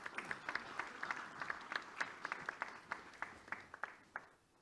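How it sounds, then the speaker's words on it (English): A small audience at a conference keynote gives sparse, distinct handclaps in a loose, uneven rhythm that taper off after a few seconds, heard quietly and close without talk over them. "Well, let's have applause at this moment."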